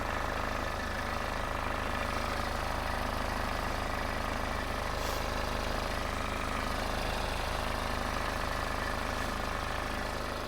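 A car engine idling steadily, a constant even mechanical hum and chug heard close with no pauses.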